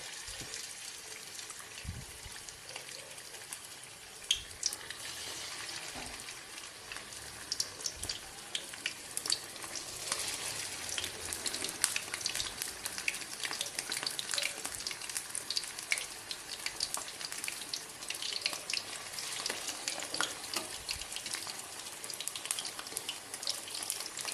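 Chicken pieces fry in hot oil in a pan with a continuous, fairly soft crackling hiss that runs throughout with small pops.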